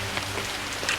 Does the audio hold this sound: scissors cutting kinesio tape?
no